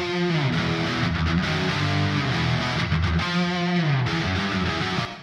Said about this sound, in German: Zusammen klingen die beiden Gitarren dann so, jeweils mit ihrem Kreuzhall draufgelegt.